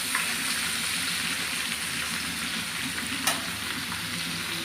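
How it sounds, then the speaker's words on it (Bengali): Pomfret pieces frying in oil in a pan give off a steady, close sizzling hiss that runs unbroken throughout, with one brief sharp clink partway through. "মাছ ভেজে কয়েকটা তুলে নিয়েছি, আর এই যে বাকিটা ভাজা চলছে"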